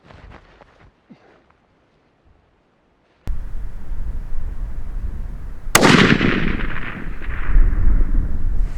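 A 6.5 PRC rifle is fired at a steel plate with the muzzle brake removed: after a near-silent stretch comes one loud, sharp blast, then a second heavy crack that leaves a long rumbling decay. No one speaks.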